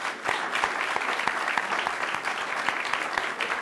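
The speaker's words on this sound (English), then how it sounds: "please join me in a round of applause for this" A room of attendees gives a round of applause to a panel at the close of an economic policy Q&A session, sustained, even clapping from many hands with a few sharper nearby claps standing out.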